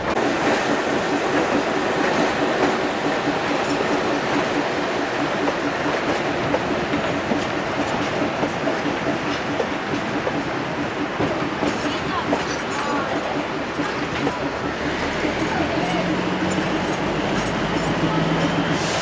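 A train rumbles along the rails with a steady, loud roar and rhythmic clatter that continues for the whole stretch, with some voices underneath.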